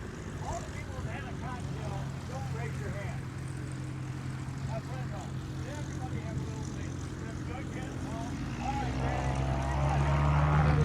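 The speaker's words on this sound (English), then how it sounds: "behind me, there goes the STOL Competition" Propeller aircraft flying in the short takeoff and landing (STOL) competition at the Sun n Fun airshow, a steady droning engine hum that swells louder toward the end over outdoor crowd noise.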